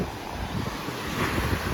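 Waves and wind at Wedi Klopo beach in South Malang, a steady rushing surf with gusty wind buffeting the microphone, no voices.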